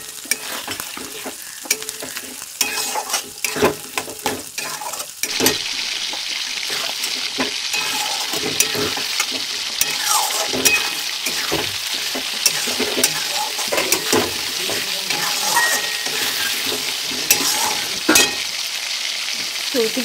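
Masala sautéed with marinated mutton and a little water in a pan crackles and sizzles loudly and steadily, with repeated scraping strokes of a spoon stirring close by.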